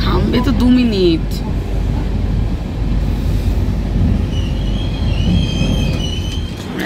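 A passenger train pulls into Bolpur station with a long metallic wheel squeal at first, then a continuous heavy rolling rumble and clatter close by. Voices murmur faintly underneath.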